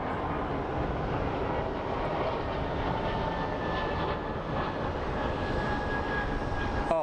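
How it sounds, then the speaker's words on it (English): Steady broadband roar of an airplane passing at Phoenix Sky Harbor International Airport, holding level and loud through the whole stretch with a faint rising whine near the end, no talk over it. "That's a plane."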